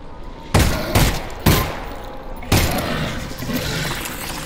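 Three loud gunshots in the video game Half-Life: Alyx ring out in quick succession, each a sharp broadband blast, followed by a lingering echoing rumble.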